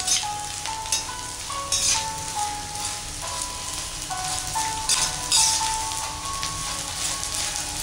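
Edible gum (gond) roasts and puffs in a pan while being stirred, a crackling frying hiss with bursts of popping and spoon scrapes, under a faint steady tone in the background.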